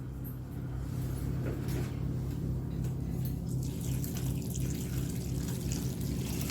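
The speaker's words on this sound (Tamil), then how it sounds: "இப்போ தண்ணி சேர்க்குறேன்." Water poured steadily into a cooking pot of Karnataka-style bisi bele bath, a continuous close splashing gush that runs without pause, no voices.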